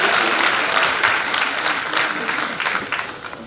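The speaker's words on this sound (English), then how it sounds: "you can clap." Audience at a keynote address breaks into sustained applause, dense clapping holding steady and loud before tapering slightly toward the end.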